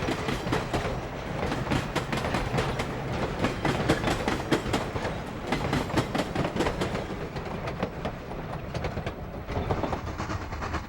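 A B&O railroad train rolls along the Toledo Terminal Railroad, giving a steady, loud clickety-clack of wheels over rail joints that goes on without a break, with no voices.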